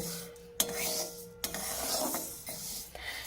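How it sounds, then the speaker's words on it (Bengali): Masoor dal is dry roasted in a hot wok, with close, steady scraping and rubbing as the lentils are stirred against the metal, punctuated by a few sharper scrapes of the spatula. "এবার এই ডালটাকে আমি বেশ ভালোভাবে শুকনো খোলায় একটু ভেজে নেব"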